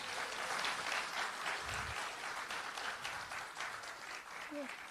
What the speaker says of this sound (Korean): 당직자 여러분께 박수 한번 보내주시고요